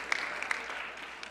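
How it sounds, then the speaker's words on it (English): A dinner audience at the White House Correspondents' Dinner claps in a brief, fairly faint burst of scattered applause that thins out within a second or so. "Folks, don't hold the applause in. Let it out, let it out."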